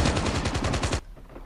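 Automatic gunfire in the game Call of Duty Mobile, one loud, close, rapid burst of about a dozen evenly spaced shots lasting about a second, then stopping abruptly into a quiet tail.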